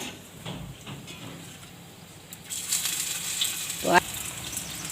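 Spinach (palak) snack pieces frying in hot oil, a steady hiss that swells louder in the second half with a brief scrape partway through.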